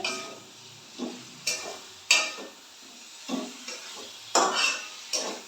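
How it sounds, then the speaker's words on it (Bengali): Cabbage curry being stirred in a pan, with a spoon scraping and clinking against the metal in irregular bursts about once a second over a faint background hiss, close and moderately loud. "এবার একটু আবার কষিয়ে নেবো ভালো করে।"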